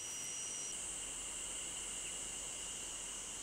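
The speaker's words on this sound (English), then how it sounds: "Loud buzzing sounds engulf the mountainside forests. It is the sound of the cicada." Cicadas drone in a summer mountainside forest in Japan, a continuous high, even buzz that holds steady throughout without pauses or any voices.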